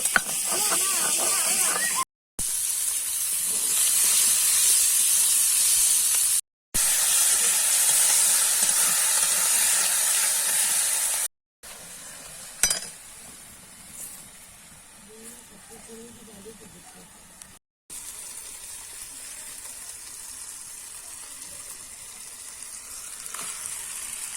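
Potatoes fry in a pan with a steady hiss and sizzle, stirred now and then with a spatula. The sound comes in several short, abruptly cut segments, with a quieter stretch of scraping partway through.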